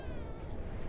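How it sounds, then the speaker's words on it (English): A cat's meow from the game The Last of Us, one short drawn-out tonal cry, quiet and alone. "Hi, kitty."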